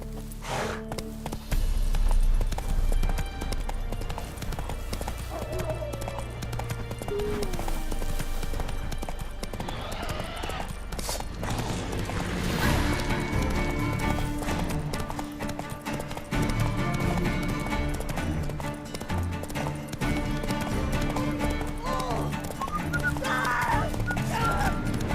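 Horse hooves clip-clop steadily through a busy game soundscape in The Witcher 3: Wild Hunt, layered under music and ambient effects, with a brief neigh and occasional voices across the ride.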